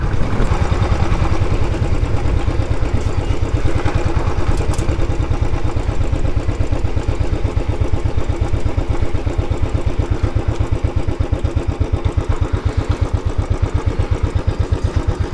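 A motorcycle engine runs steadily beside an old fort, close and loud, with an even, rapid idling pulse that lasts throughout and no talking.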